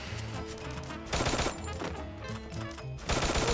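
Shotgun fire in a mobile shooter game, with repeated loud blasts in quick bursts separated by short gaps, over game background sound.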